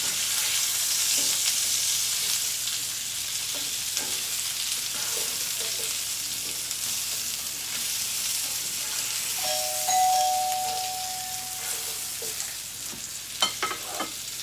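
Frozen meatballs sauté in a pan with a steady, broad sizzle throughout, joined near the end by a few sharp clinks and stirring sounds.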